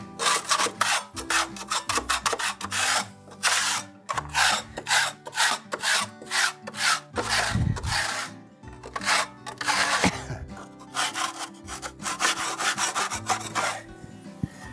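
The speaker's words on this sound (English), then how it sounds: "now if I use a scraper blade, I won't have to sand to paint" A scraper blade drawn repeatedly across a solid, extra-hard southern pine stair tread, giving loud rasping strokes in an uneven rhythm that stop and start, close up and with no talking.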